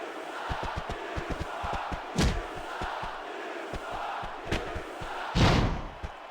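Arena crowd noise from the WWE SmackDown vs Raw 2006 wrestling video game, a steady roar with repeated sharp thuds of bodies hitting the mat and a couple of louder swells of cheering.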